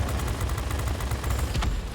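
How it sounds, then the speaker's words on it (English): Plane cannons in the World of Warplanes video game fire in one steady, rapid stream of closely spaced shots for about two seconds, loud and continuous with no pause. "So you can run those cannons for like over and over and over and over."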